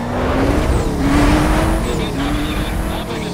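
A Lamborghini Urus in Need for Speed Most Wanted drives at speed, its engine droning steadily with rising rev tones and road rush, loud and continuous throughout.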